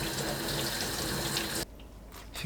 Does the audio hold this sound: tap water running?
yes